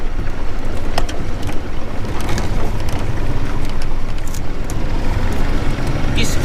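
A boat's outboard motor runs steadily after an engine swap, a loud continuous drone mixed with wind buffeting and water noise, with people talking over it now and then.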